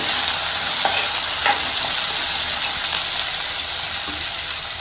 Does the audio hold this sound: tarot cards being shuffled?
no